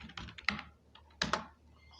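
Computer keyboard typing while a command is entered to set up a React app, two short bursts of quick key clicks close to the microphone with a pause between them.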